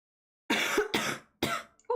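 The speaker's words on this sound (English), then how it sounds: "Cough." Three quick coughs from a person, close and sharp with short gaps between them, followed by a brief voiced sound at the end in an otherwise quiet room.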